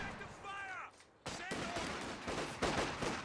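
Rifle fire from G43-armed squads crackles in a Company of Heroes 2 battle, with repeated sharp shots and bursts. A short lull is followed by denser volleys, and a voice may be faintly present early on.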